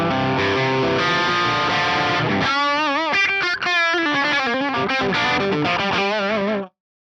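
An electric guitar drives an Axe-Fx III amp model with the tone stack boosted, giving a crunchy overdriven tone. Sustained chords give way to vibrato-heavy lead bends, played loud and alone before cutting off abruptly near the end.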